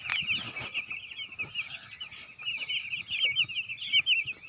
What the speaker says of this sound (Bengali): এই হলো মুরগি,